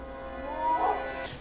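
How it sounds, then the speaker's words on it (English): A howl from the film Harry Potter and the Prisoner of Azkaban rises in a single drawn-out, wavering cry that swells in the middle and fades, fairly close and clear with no talking over it. "Who's howling?"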